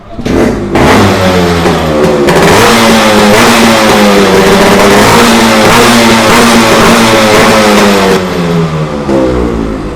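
A motorcycle engine revs hard and continuously through a loud, deep modified exhaust, the pitch rising and falling with the throttle, close by.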